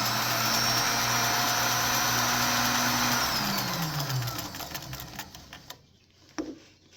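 An electric sewing machine stitches a fabric bonnet, a loud, steady whir close by that slows and winds down partway through, then gives way to a few soft handling clicks and taps.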